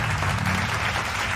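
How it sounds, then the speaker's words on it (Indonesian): A class of students claps together in a classroom, a dense, steady patter of applause, moderately loud and close. "berikan tepuk tangan untuk semua kelompok"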